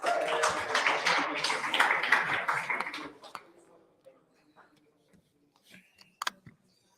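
An audience applauding a speaker at a business event, with dense clapping for about three seconds that thins into a few scattered claps and taps.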